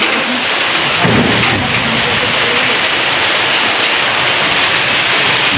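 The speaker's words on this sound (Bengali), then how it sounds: "দেখো মেঘ গর্জাচ্ছে।" Thunder rumbles through steady rain during an early-summer storm in Burdwan, a deep continuous growl under the hiss of falling drops, loud and enveloping.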